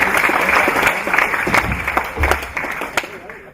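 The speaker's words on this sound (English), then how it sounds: "Round of applause there for Ricky." Audience applause at a rodeo awards presentation function, steady moderate clapping that carries on for the whole stretch with a few sharper claps standing out, plus a low murmur of crowd voices beneath it.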